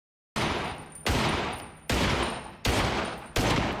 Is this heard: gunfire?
yes